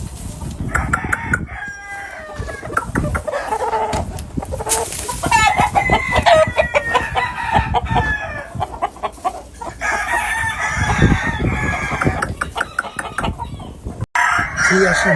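Black McRae gamefowl roosters crow loudly and repeatedly while hens cluck nearby, a busy close-up chorus of farm birds with no talk.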